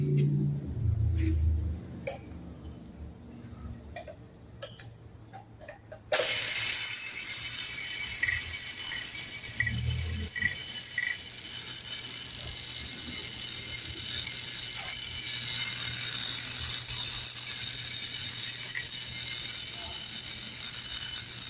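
NRJ26 linear vibratory conveyor running on 220 V single-phase with small screws on it: after a few clicks and rattles it starts with a sudden steady electric hum and buzz, screws chattering and tinkling continuously.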